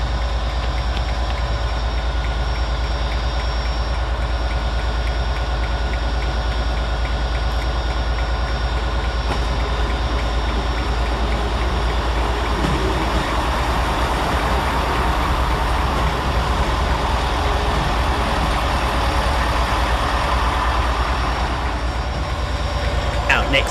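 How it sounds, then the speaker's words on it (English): Northern service 158842, a diesel unit, arrives at Carlisle railway station, its steady low engine rumble and rail noise continuing throughout, fairly close, with a faint hum of background activity. "Arriving next to terminate with a northern service off Morpeth is"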